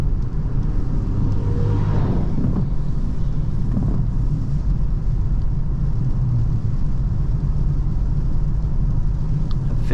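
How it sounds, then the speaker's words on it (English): Steady road and tire roar from a 2023 Hyundai Ioniq 6 electric car while driving, a continuous low rumble and hum inside the cabin with no voices. "A little bit of tire noise, as I said."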